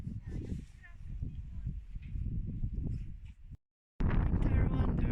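Mountain wind buffets the microphone high in the wintry High Tatras, roaring and gusting steadily for several seconds, dropping out for a brief silent gap, then returning loud and close.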